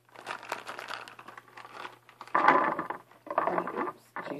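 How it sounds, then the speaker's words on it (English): A plastic bag of walnuts being cut and pulled open, giving loud close crinkling and rustling in uneven bursts, with a louder crackle midway and no speech. "Grab a scissors and open the bag."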